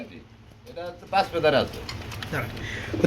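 Close, soft pigeon coos sound in a few short bursts at a pigeon market, with people talking nearby.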